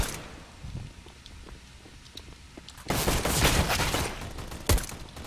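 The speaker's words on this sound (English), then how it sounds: "Oh, one ton's shooting at me." Rapid bursts of automatic gunfire and single shots in the game CS:GO, quieter at first, then a loud, dense stretch of sustained firing with a heavy blast near the end, with faint footsteps.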